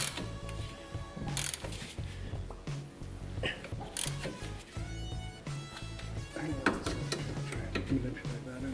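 Radius rod links being tightened on the rear end of a Polaris RZR, heard as rapid ratchet clicking and metallic tool clatter in a workshop, with bursts of louder mechanical rattling.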